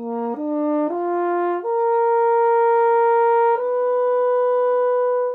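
A French horn slurs up a major arpeggio, then rises one more half step, each note held clean and steady, loud and alone.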